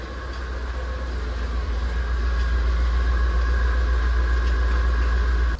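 A classic Rolls-Royce Corniche on the move, a smooth steady engine drone and road rumble heard from inside the car, loud and unbroken throughout.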